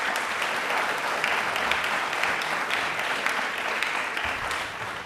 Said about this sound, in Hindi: बट एक बार तालियां इनके लिए दोबारा हो जाएं प्लीज